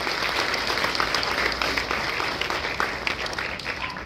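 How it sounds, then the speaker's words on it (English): A horror convention audience at a Hellraiser Q&A panel gives a big round of applause, sustained dense clapping from a large crowd throughout. "So give yourselves a big round of applause"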